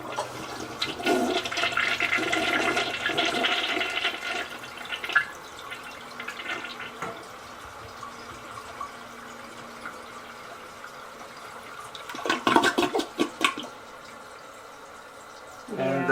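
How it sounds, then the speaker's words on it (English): An old mobile home toilet flushes slowly. Rushing water swirls and gurgles for several seconds, then quiets to a trickle as the tank refills, with a second burst of gurgling later. A voice speaks briefly near the start. "We're going to see a before and after flush of this toilet versus the new toilet."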